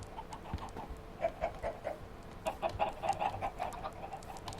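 Several Minecraft chickens cluck in quick, overlapping bursts, fairly close, with a low background hum and no talking.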